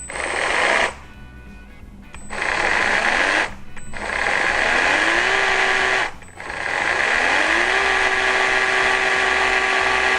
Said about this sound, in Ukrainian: Тобто пилка працює по степені нажаття клавіші. Ви нажимаєте потихеньку, потихеньку, відповідно, буде крутитися.